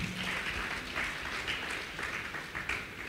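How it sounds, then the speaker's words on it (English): A church congregation claps hands during a revival sermon. The applause is steady, dense and continuous, with a few louder swells, and no one speaks over it. "Clap your two hands for Jesus."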